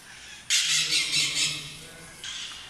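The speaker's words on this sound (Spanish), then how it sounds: "Se puede percibir el ruido de algunas aves. En realidad estas aves son los famosos loros." Harsh, loud parrot squawks burst out in a quick series in Tingo María, Peru, then a shorter squawk follows after a brief pause.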